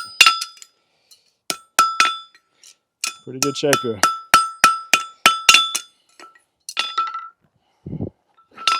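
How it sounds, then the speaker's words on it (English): A hammer shapes a horseshoe at the anvil with crisp, ringing metallic blows in irregular bursts, some in quick runs, while someone talks briefly between strikes. "Try to keep my hammer in line with my work."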